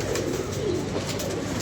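Pigeons kept in pairs in a loft coo steadily and close by, a continuous low burbling chorus with no talk over it.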